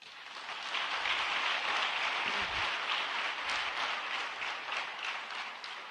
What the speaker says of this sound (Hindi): एक इसके लिए जोरदार तालियां